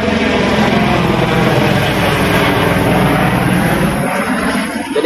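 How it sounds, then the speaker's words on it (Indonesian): An airplane passes overhead, a loud, broad, continuous roar that fills the outdoor scene and slowly eases toward the end. "berisik ada pesawat lewat"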